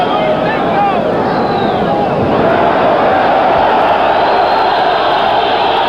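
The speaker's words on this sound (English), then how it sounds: "Hear the crowd." A boxing crowd roars during the Nino Benvenuti vs Luis Manuel Rodriguez fight, a loud, continuous wash of arena noise with a commentator's voice faintly running underneath.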